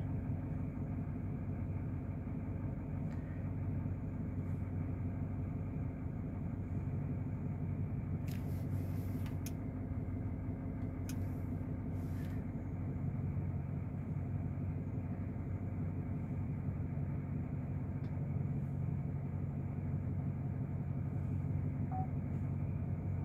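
A 2018 Chevrolet Silverado 3500 LTZ truck idles steadily while reversing, its low engine rumble continuous and close throughout, with a few faint higher beeps from the parking sensors partway through.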